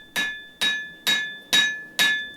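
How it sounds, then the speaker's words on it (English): Five evenly spaced, ringing metallic hammer blows strike the spine of a cable Damascus knife blade made from forge-welded wire rope on an anvil, each hit bright with a short decaying ring. "I counteract that curve in the blade by going back and hammering the spine and drawing out a distal taper at the same time"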